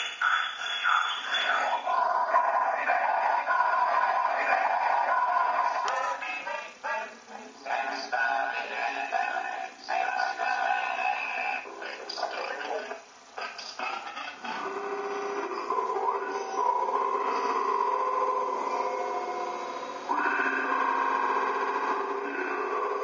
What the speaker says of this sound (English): Industrial music with reverb and the Arduino DSP Shield.